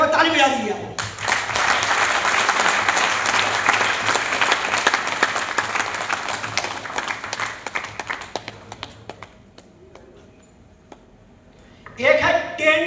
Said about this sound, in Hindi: एक बार ताली बजा दीजिए आप।